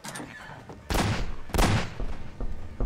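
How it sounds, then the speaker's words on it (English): Gunfire in Half-Life 2 cracks out in two loud, sharp bursts about half a second apart, each trailing into a rumbling decay, with nobody speaking. "I'm shooting you guys, I swear."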